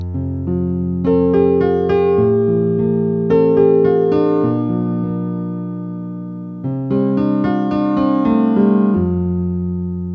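Piano played with both hands: a low bass line under a higher melody, two phrases separated by a brief dip, steady and clear with no voices.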